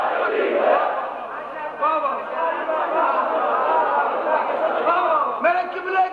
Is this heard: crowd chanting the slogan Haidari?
yes